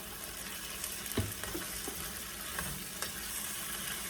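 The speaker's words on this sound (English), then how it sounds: "just let it simmer for around like 2 minutes" Buttered vegetables with bell peppers simmer in a pan, giving a steady low sizzle with a few soft stirring knocks and spoon taps, close and alone without talk.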